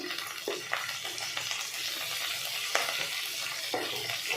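Coriander, cinnamon, clove, pepper and turmeric fry in an oily pan with onion, making a steady close sizzle broken by a few sharp stirring scrapes against the metal.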